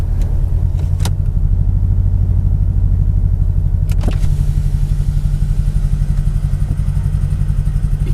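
A Mercedes-Benz E55 AMG W210 with a Kleemann 55-K2 supercharger idles loud and close with a rough, uneven misfire, its rumble pulsing and wobbling irregularly, with a couple of sharp clacks early on.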